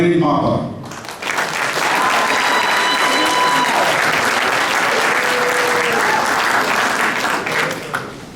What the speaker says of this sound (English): please give a round of applause to Blaine Mapa